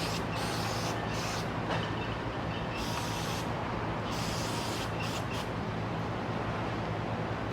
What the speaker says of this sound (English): So now I'm gonna take some brake parts cleaner, and then I'm just gonna spray it in there